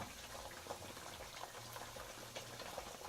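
Oil bubbles and crackles steadily, a quiet, continuous sizzle with scattered pops throughout.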